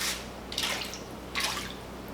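A 79-year-old vintage 'Bird' fishing lure chugs across the water, throwing spray in brief, close splashy bursts, three of them a little under a second apart, with no talking.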